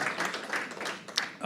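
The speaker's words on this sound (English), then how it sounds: "Can we give Neil a round of applause" Audience applause at a talk, a brief soft burst of clapping that fades quickly.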